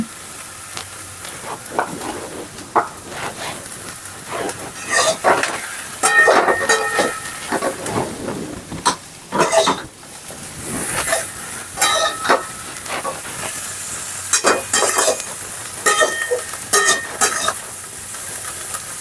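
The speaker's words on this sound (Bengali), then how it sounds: "বেগুনটা আমি ভাজতে দিয়ে দিয়েছি" Eggplant fries and sizzles in a pan while a utensil scrapes and stirs it in irregular bursts, loud and close.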